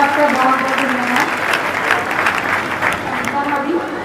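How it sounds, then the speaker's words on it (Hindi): An audience applauds loudly and continuously after a performance at a Jain women's association Daslakshan festival gathering, dense clapping holding steady throughout, with some vocal sound mixed into the crowd. "अगर प्रस्तुति पसंद आई हो तो फिर से एक बार जोरदार तालियां बजाइए"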